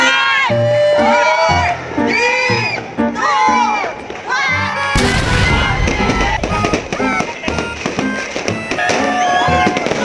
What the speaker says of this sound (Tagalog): Buti na lang marami silang fireworks.